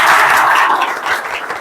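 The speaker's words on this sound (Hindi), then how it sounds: "एक बार जोरदार तालियां कृष्णपाल के लिए" Audience applause for Krishnapal, a soldier honoured at a gathering: a dense, steady wash of many hands clapping, loud and close, holding for under two seconds with no voices over it.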